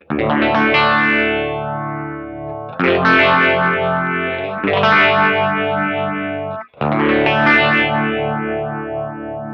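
Four long guitar notes through a Red Panda Radius ring modulator pedal, each swelling through a warbling, metallic modulated effect with distortion, sounding loud with brief gaps between them.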